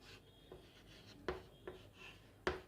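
Pen strokes on paper while jotting notes for a biology lesson, a few soft scratchy rubs with sharper taps at intervals, close and quiet with no talking.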